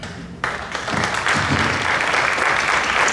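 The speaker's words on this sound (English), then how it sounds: "We have a round of applause for Mr. Barry Corbin, please." An audience breaks into loud applause for actor Barry Corbin, a dense, sustained wash of clapping that swells in and holds steady to the end.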